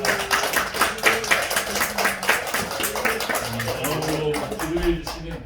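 A church congregation claps during a Sunday worship service, a brisk rhythmic round of many hands heard close, with a voice talking over part of it.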